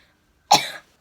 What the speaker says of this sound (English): I think there's going to be a bit of coughing and spluttering through this